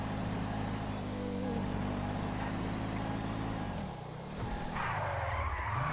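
Starter car in GTA V roleplay driving fast, a steady engine drone with layered harmonic tones that dips and swoops near the end as tires skid, loud and continuous with no talk.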